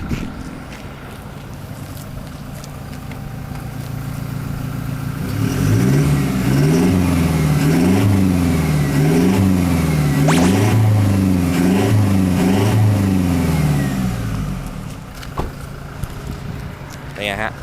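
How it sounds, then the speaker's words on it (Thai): A Toyota Fortuner Legender with an aftermarket exhaust revs repeatedly in a rhythmic series of rising and falling throttle blips. Wind noise runs underneath, and the revving is loud and fairly close. "เดี๋ยวลองฟังซุ้มเสียงกันสักนิดนึงไหม นะอ่ะ ไอฟังซุ้มเสียงหน่อย"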